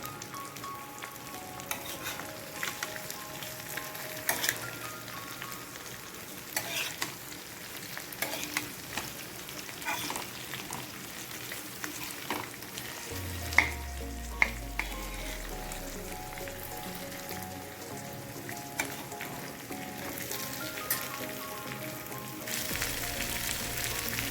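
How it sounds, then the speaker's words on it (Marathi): Bangda mackerel fish frying in a pan after being flipped gives a steady crackling sizzle throughout, with a few sharp pops and clinks of utensils, no talking. "एका बाजून मस्त असा फ्राय झालेला आहे। आता मी पलटी करून घेते।"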